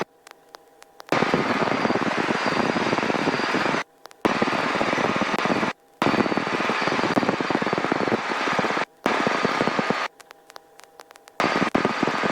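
A Robinson R22 helicopter in flight, its engine and rotor roaring loudly and continuously from close by, broken by a few brief cutouts.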